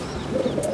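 A twenty-year-old pigeon gives a brief, soft coo, low and muffled, in a quiet setting.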